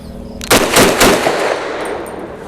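A Grand Power Stribog SP9A3G roll-delayed carbine with Glock magazines fires 65 grain +P rounds: three quick, loud, close shots with a lingering ringing tail and no voices.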